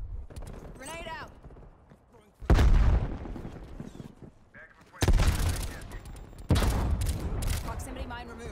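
Loud explosions and bursts of gunfire in the video game Call of Duty Cold War, three heavy blasts with rattling fire between them, while game voices call out in the background.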